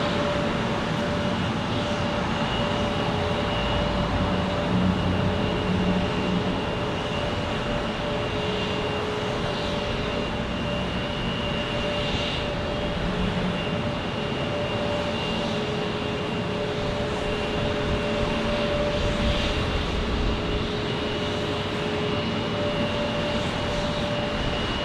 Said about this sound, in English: As we get United Express landing here.